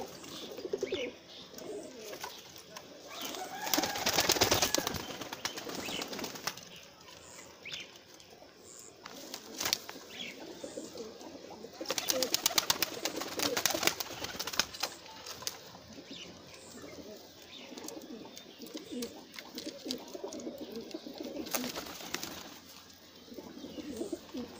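High-flying pigeons coo softly while bursts of wing flapping rise and fall several times, mid-distance and moderately faint, with light chirps in between.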